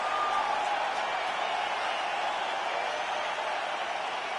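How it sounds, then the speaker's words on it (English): Steady crowd murmur from a restless arena audience in the UFC 5 video game, a constant diffuse roar with no distinct cheers or claps. "Crowd getting a little bit restless."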